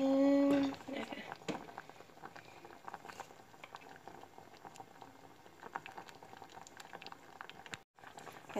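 Mushroom curry boiling in a pot: a continuous bubbling simmer with soft pattering pops, close but quiet, after a brief burst of talking at the start.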